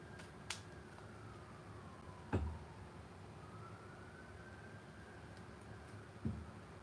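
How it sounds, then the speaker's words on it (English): A faint, distant siren wails slowly up and down beneath quiet background hiss, with a few soft clicks and thumps nearby. "There's sirens going off in the background."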